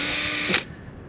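A power drill whirs loudly and close up as it backs a screw out of the circuit board cover on a hot tub. It runs for about half a second, then stops abruptly and leaves a faint tail.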